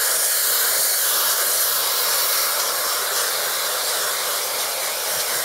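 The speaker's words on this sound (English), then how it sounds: "You guys can hear how quiet this blow dryer is." A quiet blow dryer running on high heat and fan in a barbershop, a steady airy whoosh and hiss that stays constant and close with no talking.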